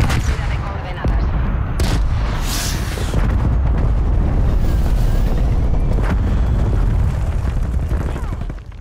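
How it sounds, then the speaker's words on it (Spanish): Artillery strike explosions in a multiplayer video game match: a steady roar of booming blasts and scattered gunfire, loud and continuous, with a few sharper impacts standing out. "Artillería a la altura de coordenadas."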